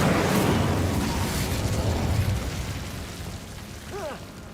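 A roaring whoosh of a fire spell blast, a loud dense burst that swells at the start and slowly fades into a crackling rumble, with a brief voiced cry near the end.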